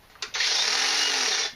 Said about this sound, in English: it works with the LB5300 leaf blower